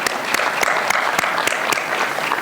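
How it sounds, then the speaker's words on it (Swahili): An audience at a State House event in Kenya marking EU–Kenya trade relations applauds, a full steady clapping punctuated by a few sharp louder claps at regular intervals, with no talk over it. "Tuwapigie makofi jameni."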